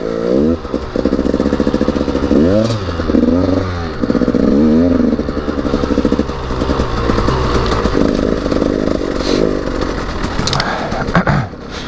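A KTM EXC 200 two-stroke dirt bike, run on its electric starter, roars loudly and steadily up close. The engine rises and falls through repeated revs with clattering mechanical noise underneath.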